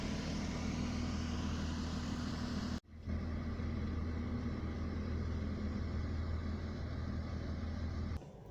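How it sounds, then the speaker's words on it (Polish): Vehicle engines idling through the night: a constant low, humming drone with steady tonal bands, broken by one brief dropout near three seconds and a small shift near the end, no talking. "Cały czas te silniki chodzą."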